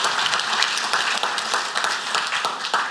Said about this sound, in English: a big round of applause for our commercial winner